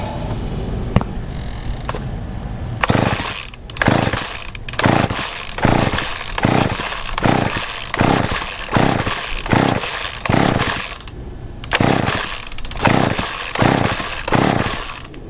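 McCulloch Eager Beaver chainsaw being pull-started after a carburetor rebuild, a run of loud, rhythmic bursts from repeated cord pulls as the two-stroke engine turns over without running on its own.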